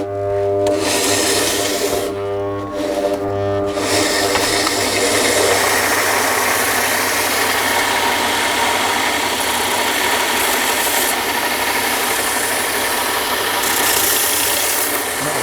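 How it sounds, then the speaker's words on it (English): An electric sander grinds down a metal base in a workshop, a loud steady whirring drone with a faint hum at the start and rough abrasive noise running continuously throughout. "I'll do it on my sander."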